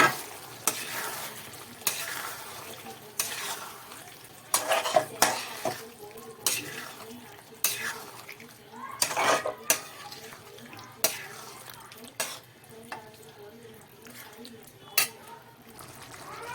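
Chicken with curd and salt is stirred in a pan, and a spoon scrapes and clatters against the metal. The steady sizzle of frying runs underneath, with a few sharper knocks along the way.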